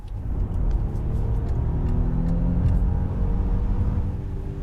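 The hybrid engine of a 2024 Volkswagen Touareg R SUV hums and rises steadily under acceleration, a smooth mid-pitched drone with road rumble and no voices.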